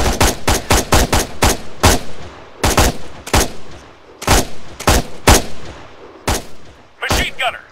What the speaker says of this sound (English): Machine gunner, 100 meters front.